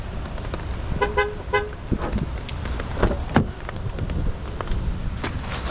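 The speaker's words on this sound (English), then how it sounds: "shoot, I locked the car" A car horn gives a short double chirp as the car is locked, with two quick toots close by over outdoor traffic and wind noise.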